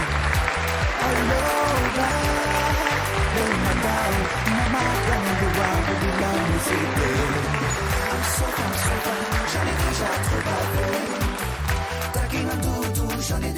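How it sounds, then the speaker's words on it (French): Wedding guests applaud the newlywed couple at a reception hall, a steady wash of clapping that runs the whole time, blended with loud music playing underneath. "Applaudissez le couple Noulem"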